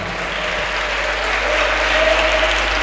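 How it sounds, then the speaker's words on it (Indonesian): A room of pesantren students at a journalism training session claps in steady, loud applause that holds evenly from start to finish. "Tepuk tangan buat teman-teman semua."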